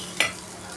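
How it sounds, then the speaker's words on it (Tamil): Onions sautéing in a pan for prawn curry give one short, close scrape of a stir with a soft sizzle, then quiet frying in the background. "இந்த வெங்காயம் நல்லா வதங்கட்டும்"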